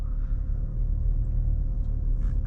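Steady low engine rumble from a 2020 BMW 530d xDrive with a 3-litre diesel while cruising, constant and even from inside the cabin, no talking.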